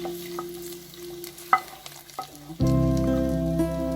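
Ghee tempering for coconut milk pongal is stirred in a pan with light scraping at first, then a loud, steady sizzle bursts in and holds close up to the end.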